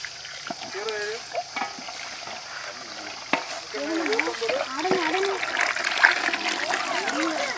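Tamarind water poured and splashing into a village-style fish curry in the pot, a steady wet trickle and spatter with someone talking over it.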